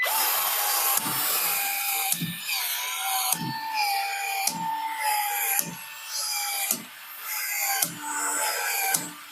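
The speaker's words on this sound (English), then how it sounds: "So I got my PEX gun." A PEX expansion tool at work during a plumbing rough-in gives a series of about eight sharp, evenly spaced mechanical clicks, each followed by a rising whirring expansion sound, close and loud.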